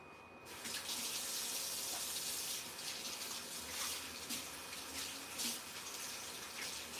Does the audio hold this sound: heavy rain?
no